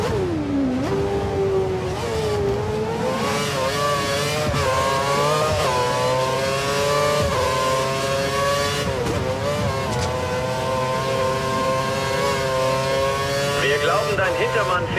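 A Lotus Formula 1 car engine screams at full revs in the F1 2013 racing game at Monza, Italy, a loud continuous high-pitched whine that rises and dips with gear shifts.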